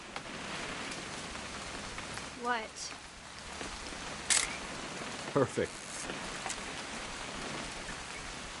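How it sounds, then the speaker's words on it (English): Steady rain patters in What Remains of Edith Finch, a constant hiss beneath occasional voices and a few sharp clicks, like a camera shutter. "It's gonna rain the whole weekend, isn't it?"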